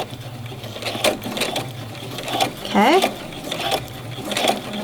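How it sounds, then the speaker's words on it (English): A sewing machine runs a regular stitch along an inverted pleat in a garment, sounding as a quick mechanical whir in short bursts close by, with a voice speaking over and between the runs. "I'm just going to do a regular stitch"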